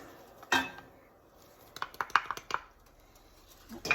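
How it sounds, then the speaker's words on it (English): A spoon clinks and scrapes against a metal pot in quick bursts, a sharp knock first, then a flurry of stirring taps, as powder is stirred into boiling water. "I'm going to stir the powder in."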